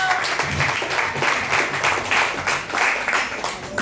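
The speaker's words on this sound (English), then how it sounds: "Let's give a round of applause" Applause from a small audience at a Wednesday open mic session, quick choppy clapping in uneven surges that stays close and fairly loud throughout, with a murmur of voices mixed in.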